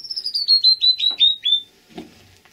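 A bird inside an abandoned mine tunnel sings a quick series of about eight sharp, descending chirps, close and loud, followed by a faint knock and quiet.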